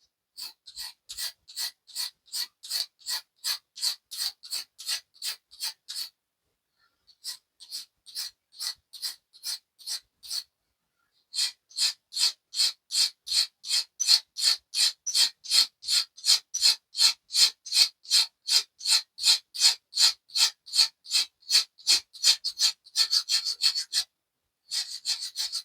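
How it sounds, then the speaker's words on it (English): A fine file strokes steel parts on a 7.25-inch gauge BR Standard 2 locomotive build, a close, crisp rasping in rapid regular strokes, broken by a few short pauses, with no talk. "And I'll get a finer file just to run them off."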